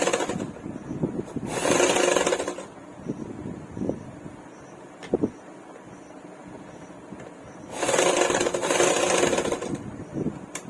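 Two sustained bursts of rapid mechanical whirring from a sewing machine stitching a blouse, each a couple of seconds long, separated by quieter handling sounds and fabric movement, heard fairly close with some background hiss.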